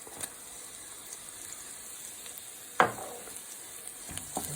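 Cinnamon stick, cumin seed, garlic, ginger and tomato paste frying in a pan, a soft steady sizzle with one sharp clatter partway through and a few faint stirring knocks.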